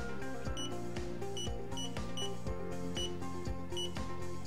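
A YOUNGDO digital laser tape measure with LCD screen beeps steadily, a rapid regular series of close electronic beeps running continuously about twice per second without speech.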